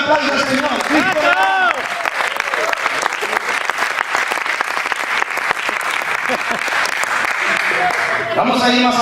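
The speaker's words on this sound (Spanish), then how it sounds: "Denle un aplauso al Señor." Loud congregational applause in a Christian church service, many hands clapping steadily while voices talk and call out over it, with a musical tone rising near the start.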